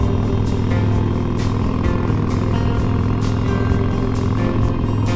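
A Harley-Davidson Road Glide motorcycle rides along mountain roads, a loud steady engine rumble with wind buffeting heard from on the bike, no speech.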